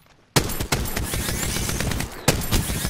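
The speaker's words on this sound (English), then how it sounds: "Opening fire." Gunfire in the Apex Legends video game, with sustained rapid automatic bursts starting abruptly after a moment of quiet and renewed near the end, loud and close with no talking.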